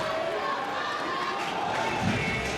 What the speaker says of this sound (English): Eli's gotten the whole crowd riled up